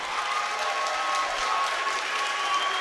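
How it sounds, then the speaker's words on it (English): Loud, sustained crowd applause at a combat fight event after a bout, a dense steady roar of clapping filling the whole stretch without a break. "Big massive round of applause for Rhys Hanna there."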